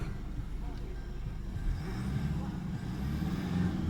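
A Toyota Vigo 3.0 Prerunner pickup engine idles with a steady low rumble, fairly close; a voice speaks briefly over it.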